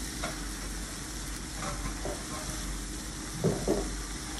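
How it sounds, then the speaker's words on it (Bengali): Ginger-garlic paste fries in oil with spices as a soft, continuous sizzle, and a pair of spatula scrapes sounds near the end. "আমি এর মধ্যে যে 1 চামচ আদা রসুনের পেস্ট ছিল সেটা দিয়ে দিয়েছি, দিয়ে আবার একটু ভালো করে ভেজে নিচ্ছি"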